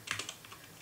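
Quiet keyboard typing, a short run of about five light clicks spread across under a second, close and soft, with no voices.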